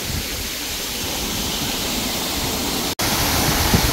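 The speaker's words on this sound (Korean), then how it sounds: "잠룡 폭포." Jamnyong Falls at Naeyeonsan, a mountain waterfall pouring in a constant broadband rush heard nearby, with a momentary dropout before it resumes.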